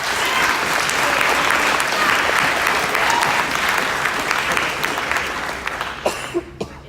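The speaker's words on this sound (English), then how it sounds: "Give them another round of applause." Audience applause at a youth-in-government State of the State gathering, a dense and steady wash of clapping that carries on for several seconds before thinning out into a few scattered claps and a cough at the end.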